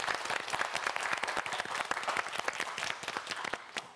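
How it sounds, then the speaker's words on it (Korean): A studio audience at a Korean TV quiz show applauds a student contestant, with loud, sustained, even clapping that holds strongly for several seconds before easing slightly. "우리 강다윤 학생에게 큰 박수 부탁드립니다."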